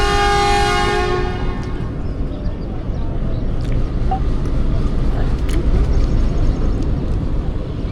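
Millat Express pulling out of Chak Jhumra railway station sounds a loud horn for just over a second, then a heavy, steady rumble of the moving train continues alone.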